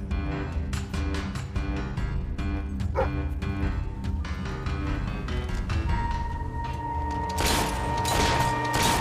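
A devil dog barks in the video game Fable III, with a quick run of sharp barks and yips over a dense musical and mechanical game soundscape, followed by a louder burst near the end.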